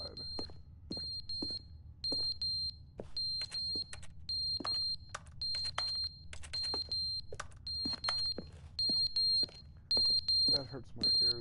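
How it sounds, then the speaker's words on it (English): A smoke alarm with dead batteries chirps and beeps repeatedly in sharp, high bursts. The bursts come in an irregular, near-continuous pattern, with clicks and low room noise beneath them. "The smoke alarm batteries went out."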